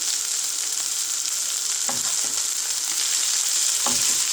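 Chicken for shawarma fries on medium-high heat with a loud, steady hiss, and a few soft scrapes of a fork moving the pieces around.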